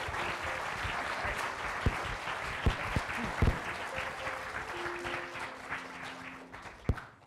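A theater audience breaks into a big, sustained round of applause, dense clapping filling the room for several seconds with a few sharper individual claps and faint whoops poking through near the end.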